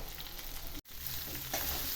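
Cabbage muthiya frying in a hot tempering, a steady close sizzle with a brief silent break before the frying hiss resumes.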